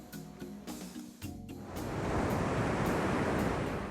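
Ocean surf rises after a short quieter stretch into a broad, steady wash of breaking waves, moderately loud and close, with no voices.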